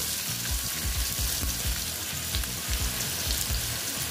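Potatoes fry in a pan of hot oil with a steady, dense sizzle that runs unbroken and fairly loud, and soft stirring scrapes show through now and then.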